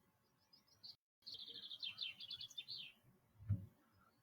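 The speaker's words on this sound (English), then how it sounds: "There was a bird singing a minute. Did you hear that? Somewhere over in the bushes over here." A small bird sings from the bushes in the morning, giving a quick run of bright chirping notes followed by a longer trilling phrase, faint against quiet outdoor background with a single soft thump.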